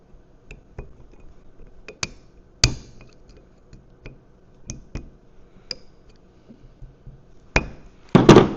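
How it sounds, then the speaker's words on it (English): A socket taps an axle C-clip into its groove on a Jeep TJ axle, producing sharp, scattered metallic knocks at uneven intervals, close and fairly quiet, with a cluster of louder clanks at the end. "And then I would just take a socket and just kind of tap down in there and make sure it goes into the grooves."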